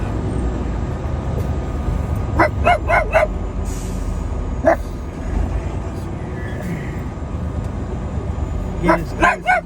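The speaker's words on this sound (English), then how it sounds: "What are you barking about?" A dog barks in short bursts, a quick run of yips, then a single bark, then another cluster near the end, over outdoor background noise.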